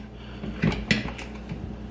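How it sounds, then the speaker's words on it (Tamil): A lid is set onto a pressure cooker pot holding kidney bean rice, giving a couple of close metallic clunks and a light clatter in a quiet kitchen. "அப்படி மிக்ஸ் பண்ண பிறகு இப்போ இதை மூடி போட்டு"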